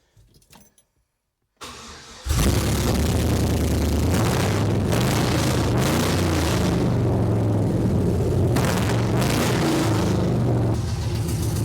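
The engine of a 1972 Chevrolet C10 truck cranks and catches on its first start after a build. A brief stutter gives way to a loud, steady, rumbling idle nearby that runs to the end. No one speaks.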